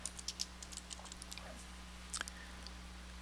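Light clicks of typing on a computer keyboard, a short uneven run of quiet taps over a steady low electrical hum in a quiet room.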